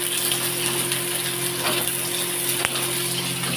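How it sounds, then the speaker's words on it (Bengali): Onions frying in a pan with chillies for a Bengali potato mash, giving a steady, close sizzling hiss that runs evenly through the whole stretch with no talk over it. "পেঁয়াজটা ভালো করে ভাজা করে নেব।"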